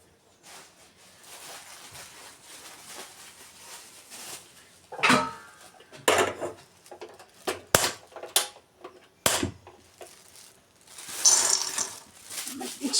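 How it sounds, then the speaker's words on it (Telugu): Peanuts roasting dry in a pan, stirred with a utensil: scattered scraping clatters and rattles that come in bursts, some sharp and close, over a faint, quiet background. "ఇప్పుడైతే పల్లీలు వేయించుకుంటాం"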